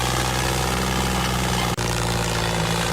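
A tractor engine running while reversing down from a slope, a loud, constant low rumbling drone heard up close, with one momentary cut in the sound.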